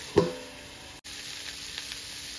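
Raw jackfruit with ground cumin and fried spices sautéing in a pan, a brief sharp sizzle burst at the start, then a quieter steady hiss with faint pops.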